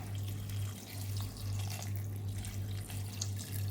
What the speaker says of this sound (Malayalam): ഇനി വേവാനുള്ള കുറച്ച് വെള്ളം കൂടെ ഒഴിച്ച് നമുക്ക് അടപ്പേ വെച്ചിട്ടൊന്ന് വേവിച്ചെടുക്കാം